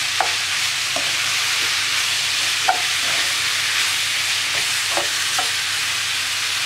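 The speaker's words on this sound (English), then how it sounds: "I've got this on the high heat, so I'm just going to keep mixing it until it's cooked" Lasagne sauce frying over high heat in a pan, stirred continuously: a steady, loud sizzling hiss throughout, with occasional soft scrapes of the spoon against the pan.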